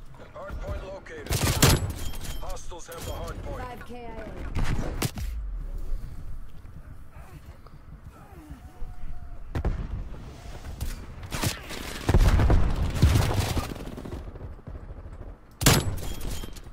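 Gunfire from a gun in Call of Duty: Cold War multiplayer on Nuketown, loud bursts of shots in several clusters separated by quieter stretches of game ambience.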